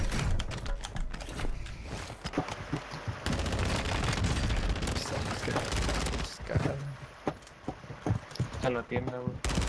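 Rapid bursts of gunfire from an ISO 9mm submachine gun in a first-person shooter, dense and loud through the first stretch and then more scattered, with excited speech in between.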